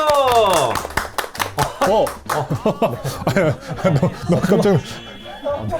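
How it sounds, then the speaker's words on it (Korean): Audience members at a talk-show taping clap in sharp, irregular bursts while hosts chatter and chuckle over it, the claps close and crisp between stretches of lively speech and laughter. "자 박수 한번 부탁드릴게요"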